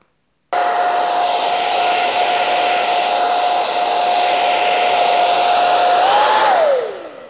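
A heat gun or hair dryer heating an iPad mini 2 screen roars with a steady, loud whooshing blow and a fixed motor whine for about six seconds, then the pitch rises briefly before it switches off and spins down.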